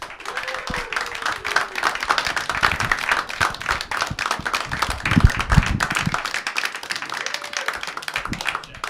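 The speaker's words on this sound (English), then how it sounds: "Put your hands together for Brian Lucette." A stand-up comedy audience claps and applauds steadily to welcome a comic to the stage, a dense continuous patter of many hands with a few scattered cheers.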